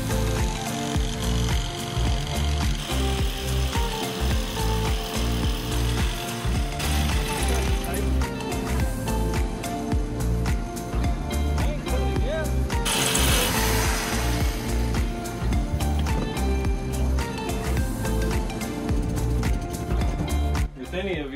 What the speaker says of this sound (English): cutting our cement board that's gonna go underneath it